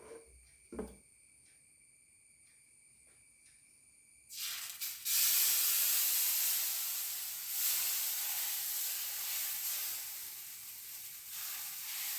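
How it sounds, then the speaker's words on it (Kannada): Spicy corn dosa batter hitting a hot oiled griddle on low flame, a sudden loud steady sizzle and hiss that rises after a quiet stretch with a faint high electronic tone, then holds close and continuous. "ಇನ್ನು ದೋಸೆ ಎರೆಯುವ. ಸ್ವಲ್ಪ ಎಣ್ಣೆ ಹಾಕಿಕೊಳ್ತಾ ಇದ್ದೇನೆ."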